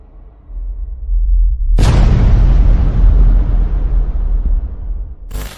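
A huge explosion sound effect stands in for the Big Bang: after quiet low rumbling, a sudden loud blast erupts and roars on as a long, deep rolling boom that slowly fades, with a sharp new burst at the very end.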